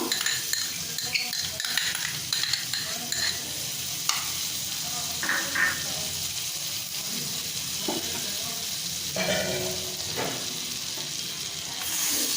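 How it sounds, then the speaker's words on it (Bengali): Butter sizzles in a wok for bottle gourd mohanbhog, a steady frying hiss broken by scraping and clinking as a spoon stirs. "বাকি যে বাটারটা কড়াইতে দিয়ে দেব।"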